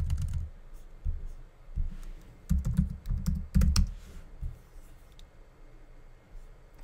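Rapid keyboard typing of a password on a computer keyboard at a WordPress login, a close run of light clicks in uneven bursts with short pauses, no talking.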